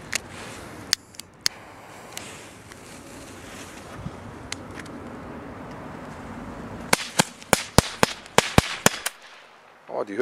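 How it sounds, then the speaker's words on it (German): Scattered sharp cracks give way to a rapid, loud burst of jumping firecrackers hopping and banging one after another, then quiet outdoor air. "Jetzt die Knallfrösche."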